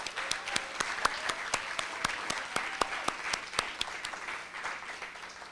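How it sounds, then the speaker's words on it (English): Sparse, fairly quiet applause at an awards ceremony, a few hands clapping at a steady rhythm with individual claps clearly separated rather than blending into a wash. "So if we can please give them a round of applause."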